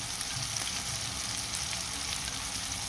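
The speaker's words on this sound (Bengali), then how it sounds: "একটু ভাজা হোক, পেঁয়াজ টমেটো ভাজা হয়ে গেছে।" Onions and tomatoes fry in a pan for a cauliflower and rohu fish curry, giving a steady, close hissing sizzle with no talk.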